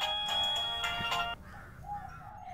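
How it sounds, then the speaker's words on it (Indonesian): An electronic telephone ringtone plays for just over a second in a Javanese-language drama scene, then cuts off, leaving quieter background sound. "Telepon."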